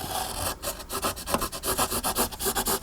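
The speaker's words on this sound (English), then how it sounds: "because I have a score line in there, I'm going to rub it back out just a little bit" A score line on paper is rubbed back out, heard as a steady, rhythmic back-and-forth rasping scrape close to the mic, about eight or nine strokes with no talking.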